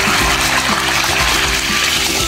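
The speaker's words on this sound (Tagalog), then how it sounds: "Lagyan natin ang tubig." Water is poured into a cooking pot holding onions and salt, a continuous splashing gush with a low pump-like hum underneath, near and loud throughout.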